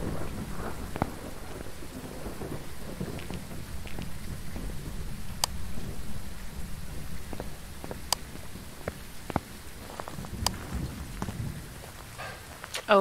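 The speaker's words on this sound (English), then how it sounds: "It's starting to rain here as well." Rain and thunder in the Phasmophobia video game: steady rainfall patters on surfaces while distant thunder rumbles underneath, dotted with sharp drip clicks, continuous and without voices.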